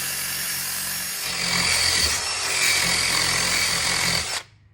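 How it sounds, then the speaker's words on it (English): A wire wheel on a power tool scrubs rust off the underside metal of a Jeep Wrangler, a steady continuous grinding and rubbing that runs close and loud for about four seconds before cutting off abruptly. "I'm just going to get up under here with my wire wheel. Clean off this whole surface."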